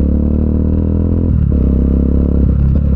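A motorcycle rides over a bumpy, flooded road beside rice fields, its engine droning loud and close with brief clattering jolts as the bike hits rough patches.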